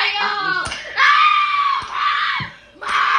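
A girl screaming on a TikTok live stream, shrill and loud in several long bursts with brief breaks between them.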